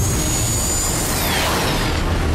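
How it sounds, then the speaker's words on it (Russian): A loud jet-like whoosh from a jet jump in the animated series Redakai blasts briefly, with a high whine sweeping downward over a roaring rush of air. "Реактивный прыжок."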